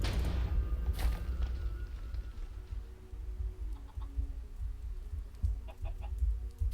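Clucking from a chicken in a Minecraft-style game, with steady low background noise underneath and a few short, sharp bird calls coming through, most clearly toward the end.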